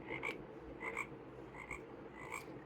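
Repeated frog croaks from a children's sound book effect, several quick rasping calls in a steady rhythm, close and clear with a faint background hiss.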